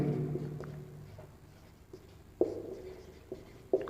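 A maths derivation is written out by hand, heard as quiet scratching strokes with a few sharper taps, faint and close.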